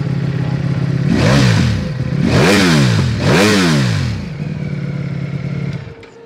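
Ducati Desmosedici RR V4 motorcycle engine from 2007 revving hard three times in a row, each rise and fall climbing sharply then dropping back to a steady idle, loud and close with no talking.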